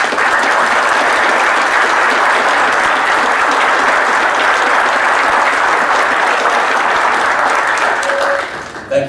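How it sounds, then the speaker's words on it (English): An audience gives sustained, full-room applause for alumni association and foundation members, an even wash of clapping that holds for about nine seconds before tapering off. "asking you to join me in giving them our applause"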